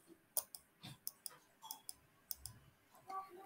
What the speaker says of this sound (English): So let's right click.